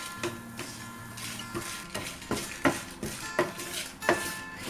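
Six dried red chillies and garlic are sautéed in a pan for Kerala-style beef fry, a spatula clanking against the metal in a steady rhythm of roughly one stroke per half-second over a soft sizzle; no speech.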